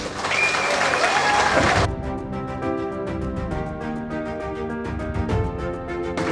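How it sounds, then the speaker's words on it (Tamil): A crowd at a political party meeting claps and cheers loudly for under two seconds. The noise then cuts off abruptly and gives way to tonal music. "அனைவருமே வந்து இப்போ கை தட்டினாங்க சந்தோஷப்பட்டாங்க"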